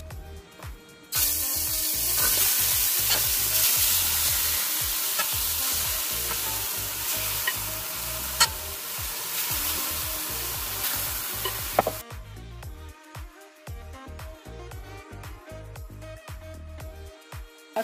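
Chicken pieces frying in oil in a cooking pot for Dominican chicken locrio, giving a loud, steady sizzle with stirring scrapes for about eleven seconds before it drops to a quieter crackle.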